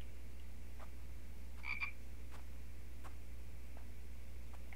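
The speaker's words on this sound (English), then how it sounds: "see if there happened to be a frog." Frog croaking in The Infected video game, heard as a few short, fairly faint croaks over a steady low background hum, with no talk.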